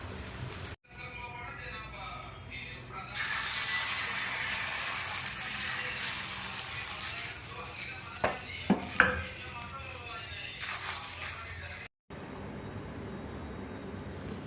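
Dosa batter made with urad dal sizzles on a hot pan: a steady, bright frying hiss that holds for several seconds, with a few sharp clinks of a utensil and a voice talking over it.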